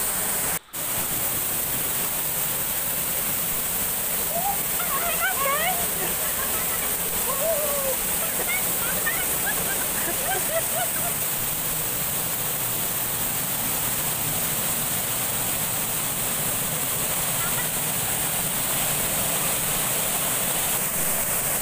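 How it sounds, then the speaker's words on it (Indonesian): Steady rushing roar of a waterfall beside a hot spring in Ngancar village, Plaosan, Magetan, Indonesia, fills the whole stretch, constant and loud, with faint chirps of birds scattered through it. "di sebelah kiri air terjun inilah guys tempat keberadaan sumber air"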